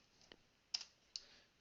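Two or three quiet, isolated clicks of keys being pressed on a computer keyboard while entering decimal numbers, spaced unevenly with near silence between them.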